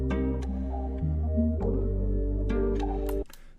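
Trap beat in FL Studio with the melody's low end automated: a loud, steady electronic melody over deep sustained bass notes that shift in pitch, with light clicks on top and no talking.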